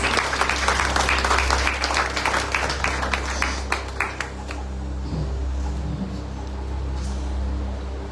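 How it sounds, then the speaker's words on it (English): Church retreat audience in Margao, Goa, clapping hands together, a dense steady patter of many claps that fades in the second half over a low background hum. "Come on, clap your hands for Jesus."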